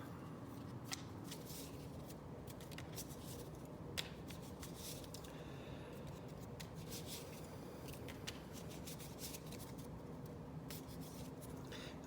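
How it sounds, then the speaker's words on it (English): Playing cards being shuffled during a tabletop board game, a faint continuous riffling and sliding close by with occasional soft snaps, no speech over it. "so let's shuffle"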